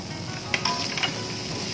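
Shallots and garlic stir-frying in oil, a steady close sizzle with a few brief scrapes of stirring.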